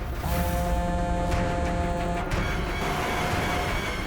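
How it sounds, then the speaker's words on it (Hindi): Road traffic with cars and trucks rumbles steadily, a dense, close wash of engine noise and road rush with a few tonal horn-like notes over it and no talking. "अरे ट्रैफिक, अभी ट्रैफिक मिलना था क्या?"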